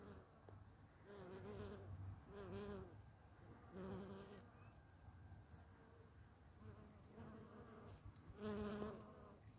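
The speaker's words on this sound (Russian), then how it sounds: "пчелы уже опыляют" Bees buzzing around spring flowers outdoors in Israel; several close passes of droning wingbeats come and go in bursts, rising and fading, over faint background ambience.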